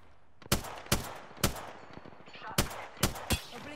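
Gunfire in Apex Legends, about seven sharp shots at uneven intervals that ring out loud and close over quiet background noise.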